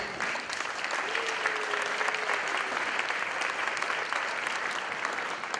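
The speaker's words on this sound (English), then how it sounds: "So please give yourself a round of applause" A crowd at a beginning band winter concert breaks into loud, sustained applause, dense clapping filling the hall with a faint held tone briefly audible beneath.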